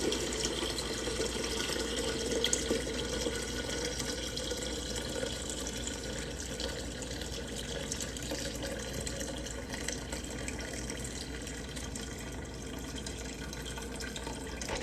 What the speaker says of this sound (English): So I'm just going to pour some of the straight liquid.